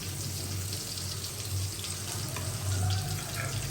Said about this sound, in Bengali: হালকা একটু পানি দিয়ে দিব